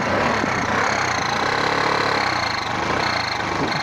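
Dirt bike engine with a carburetor fault idling roughly and unevenly, a continuous close rattling, sputtering drone with a gritty mechanical texture, heard alone without speech.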